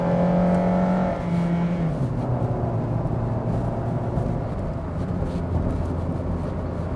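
A 2022 Suzuki Ertiga with a 1.5-litre, 105-horsepower mild-hybrid engine cruises at highway speed in fourth gear around 2,500 rpm. Its steady engine drone and road noise come from inside the cabin, with gliding tones early on that settle into a constant hum.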